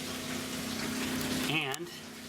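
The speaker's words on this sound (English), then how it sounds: "I turn on my pump" A water pump running off a solar-charged battery gives a steady, loud mechanical hum with a faint watery rush. Near the end the tone wavers briefly, then drops to a quieter drone.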